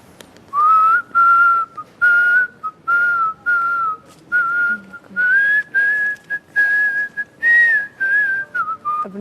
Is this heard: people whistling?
yes